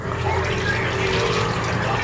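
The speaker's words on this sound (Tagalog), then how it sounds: "ako ay maglalagay ng tubig para sa kanton na yan" Water poured into a pot for pancit canton noodles in a home kitchen, a steady close trickle and splash running continuously with a low background hum.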